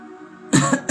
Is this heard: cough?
yes